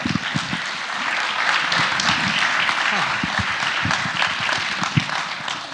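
An audience applauds as four panelists walk on stage at a startup conference panel, steady dense clapping close and loud throughout with faint voices mixed in.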